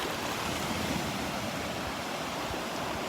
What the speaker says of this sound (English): He's gonna have to deal with the waves.